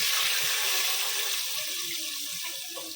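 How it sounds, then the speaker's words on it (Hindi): Water poured into a cooking pot after cumin seeds have crackled, a steady loud splashing pour that starts out strong and gradually settles into lighter bubbling and gurgling, with no talking. "पानी डालेंगे"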